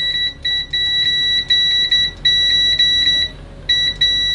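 A JIMI JM-G3401 budget multimeter's continuity tester sounds a loud, shrill electronic beep in repeated bursts as the probes make contact, with brief gaps between tones.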